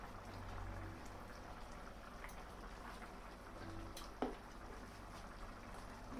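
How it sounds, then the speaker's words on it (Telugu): Taro and bottle gourd pulusu, an Andhra-style tamarind stew, simmers in a pot with a soft, steady bubbling that stays faint and close throughout, broken by a single small clink partway through. "కొద్దిసేపు ఉడకనివ్వాలి."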